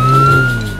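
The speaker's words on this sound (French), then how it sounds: "ceci est une voiture de police" A police car siren in a French children's song sounds as a single steady high tone over a lower, sustained hum, loud and brief, with no talking.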